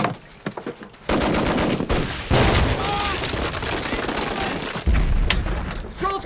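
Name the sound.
battle gunfire and machine guns in a war movie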